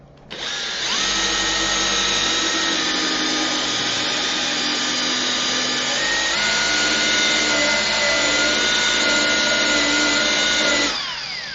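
A buffing wheel spins up and runs at high speed, a loud steady motor whine with bright harmonic tones that holds for about ten seconds, shifts pitch slightly partway through, then winds down at the end.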